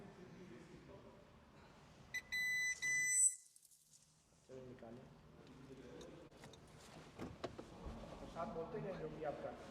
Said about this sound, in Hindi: ये इसके पार्किंग सेंसर्स वर्क कर रहे हैं। जैसे कोई चीज़ आगे आती है वो बीप करते हैं।